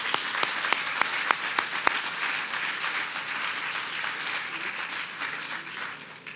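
Awards-event audience applauding steadily, a dense wash of many hands clapping with a few sharper nearby claps early on, sustained throughout without speech.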